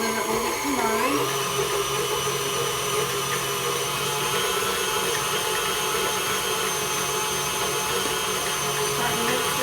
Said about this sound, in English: Lock your stand mixer down and slowly start to mix it. And then speed it up